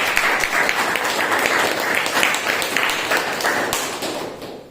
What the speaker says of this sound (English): Now I will request everyone to have a big round of applause.